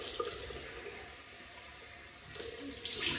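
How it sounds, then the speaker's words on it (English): Cold tap water running into a bathroom sink for a rinse after shaving, a steady close gush that swells louder toward the end, with no talking. "Now, I cold water rinse."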